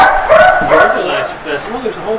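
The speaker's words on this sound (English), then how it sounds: "There's a whole bunch of dogs." Several dogs at a pet resort and spa bark, yip and whine together in a busy, overlapping chorus, fairly close and loud.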